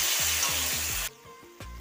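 Cashews, raisins, ginger and green chili paste fry in a pan with a loud, bright sizzle that cuts off abruptly, then returns at a lower level near the end, over a repeating low tonal hum.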